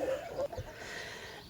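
A Brahma hen beside a chick gives a few short, soft clucks near the start, then falls quiet against a low background hiss.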